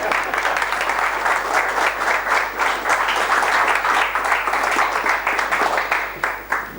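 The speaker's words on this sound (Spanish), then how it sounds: "Aquí lo dejamos y aplaudan." Sustained applause from a lecture audience after a Spanish science talk on light and the properties of matter, dense steady clapping filling the whole stretch and thinning slightly at the very end.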